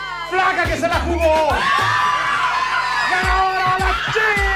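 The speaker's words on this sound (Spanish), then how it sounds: "¡Y aplauso para la flaca que se la jugó!" A bachelorette party crowd erupts in whoops, shrieks and shouting over pounding bass-heavy music, with clapping lost under the cheering.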